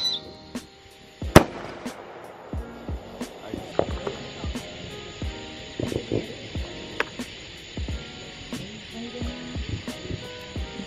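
A Fourth of July firework bursts in sharp crackling pops in quick irregular bursts, one loud bang near the start followed by scattered snaps, with faint voices in the background.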